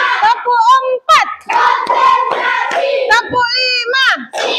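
A group of children claps hands together in counted beats during an Indonesian classroom session, sharp slaps landing between loud chanting and shouting voices.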